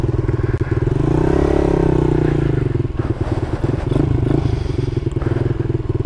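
Honda Monkey and Grom clone mini motorcycles ride out toward Savannah Wildlife Refuge, their small engines putting out a loud, close, rapid-pulsing drone that rises and falls in pitch as they rev and change speed, with wind clatter.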